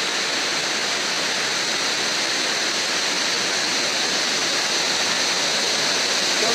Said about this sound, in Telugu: మెయిన్ వాటర్ ఫాల్స్ వర్షాకాలం సీజన్ కాదు కాబట్టి ఇక్కడ వాటర్ తక్కువ ఉంది